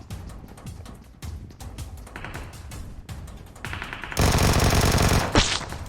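Gunfire in PUBG Mobile: rapid bursts of automatic weapon shots, growing into a loud sustained volley near the end, with a whooshing sweep at the close.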